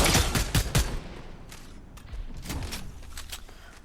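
Rapid gunfire bursts in a Fortnite match as a player shoots at opponents from a vantage point, loud cracking volleys at the start, then sparser shots and game noise.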